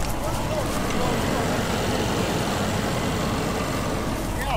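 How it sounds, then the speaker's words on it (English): Land Rover with Terrain Response 2 spinning its mud-caked, smoking tires while climbing a steep muddy slope, producing an unbroken, loud, roaring engine and tire churn at constant intensity. "Gave it just the right wheel spin."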